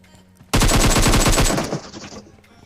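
Rapid bursts of automatic gunfire from a battle royale video game, a loud close volley of dense repeated shots lasting about a second and a half before tailing off.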